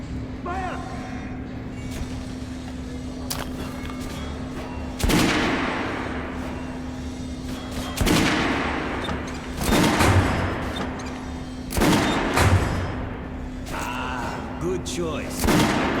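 Gunfire in the Metro Last Light Redux game, repeated loud shots and bursts at irregular intervals over a steady droning background, with people talking in between.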